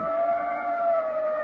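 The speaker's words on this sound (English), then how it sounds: "We were about a block away from her apartment when we heard the ambulance." An ambulance siren in an old-time radio drama, a steady sustained wail at moderate level with no voices over it.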